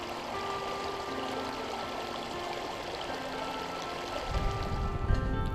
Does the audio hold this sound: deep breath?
no